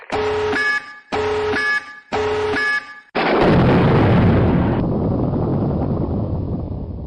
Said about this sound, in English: Tactical nuke incoming!